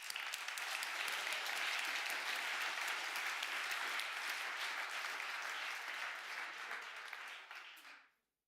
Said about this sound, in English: I would say a round of applause for them.